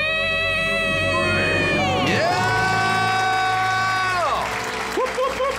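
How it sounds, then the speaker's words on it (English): A live audience at a debt-free celebration bursts into loud, sustained screaming and cheering, whoops and shouts overlapping close by for several seconds. "Let's hear a debt-free scream."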